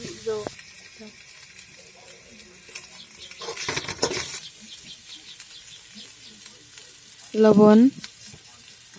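Peas and paneer frying with ginger, garlic, onion and green chilli in a pan, a soft sizzle under intermittent talk, with louder stirring scrapes midway and a brief clatter near the end.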